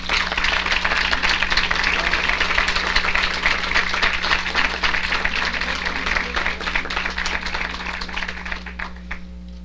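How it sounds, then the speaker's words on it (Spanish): Dense audience applause fills a forum inauguration hall, steady and loud for nearly ten seconds before thinning slightly at the end, with a low steady hum beneath it. "Les damos a ellos un fuerte aplauso"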